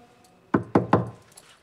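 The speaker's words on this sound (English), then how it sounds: "So knock on the door." Three quick, firm knocks on an apartment door, close and distinct, followed by quiet.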